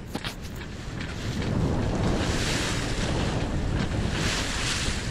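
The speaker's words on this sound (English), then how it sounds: "Waves are pretty manageable." Ocean waves and strong wind on a solo sailboat at sea. A loud, broad roar of wind buffeting the microphone mixes with washing surf that swells and stays constant, with no voices.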